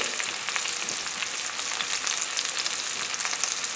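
Chicken tidbits and vegetables frying in a pan with a little added liquid, producing a dense, continuous crackling sizzle that holds steady and close throughout.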